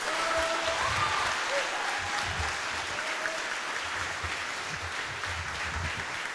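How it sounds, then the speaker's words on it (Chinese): Warm applause from the audience at a charity thank-you concert for blind and visually impaired elderly people living alone, sustained and fairly close, with faint voices and cheers mixed into the clapping. "我们刚刚有很多爱的掌声跟欢呼嘛"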